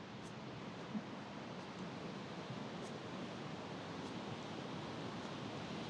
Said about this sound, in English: I'm gonna take an image of that waterfall. I hope you can hear my voice because it's a pretty loud noise.